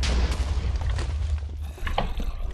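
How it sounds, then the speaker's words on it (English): Deep cannon booms in a multiplayer video game match, heavy low rumbling blasts repeating close and loud over a continuous thudding battle din. "Is the cannon up, Kenny? Is that what I'm hearing?"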